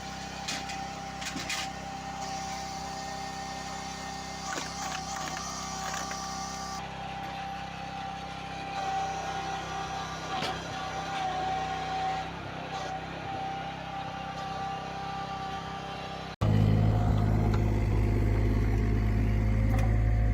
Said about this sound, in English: This two-level splitter, though simple in design, stands as a testament to raw mechanical strength